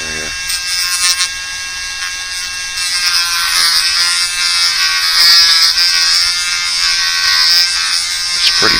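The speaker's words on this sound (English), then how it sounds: "I'm not going to go real fast with the Dremel because I don't really need to" A Dremel rotary tool whines steadily at moderate speed as it lightly shapes a firm plastic fish lure, a continuous high buzzy drone with slight shifts in pitch as the bit contacts the workpiece, up close and loud.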